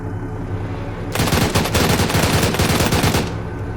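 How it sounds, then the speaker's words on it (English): An autocannon fires in the Arma 3 military video game as a loud, close, rapid burst of heavy shots that lasts about two seconds and then stops abruptly. "Give it a shot of just firing out in the open. Autocannon."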